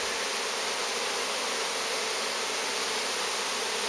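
A swarm of Italian honey bees buzzes steadily as they fan hard while entering a new hive, a dense, continuous hum that stays loud and even throughout with no talking.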